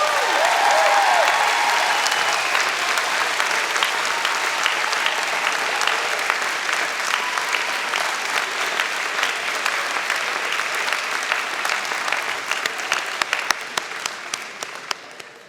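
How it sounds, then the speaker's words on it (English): A large audience at a graduation convocation ceremony claps in sustained, dense applause that stays loud and steady before gradually thinning out toward the end. "Graduates, a round of applause for family and friends."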